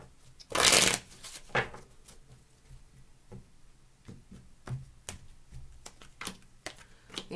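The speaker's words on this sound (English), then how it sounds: "Let's shuffle." Tarot cards shuffled by hand, a loud riffling burst near the start followed by softer scattered taps and card slides, close and quiet with no talk.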